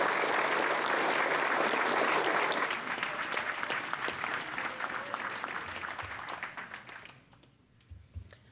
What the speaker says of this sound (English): let's put a round of applause